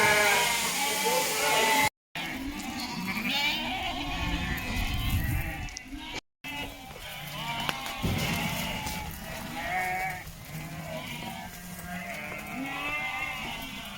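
Sheep and lambs bleat repeatedly while being run in on a farm, overlapping calls near and far, with people talking over the flock.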